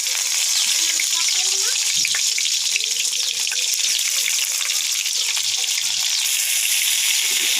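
Folded fish, wrapped in mint leaves, frying in a little hot oil in a kadai, giving a steady dense sizzle that runs unbroken from start to finish at close range.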